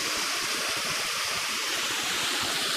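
Floodwater rushes through a village stream channel after a major flood, a loud, steady broadband roar of churning water close by with no pauses and no voices.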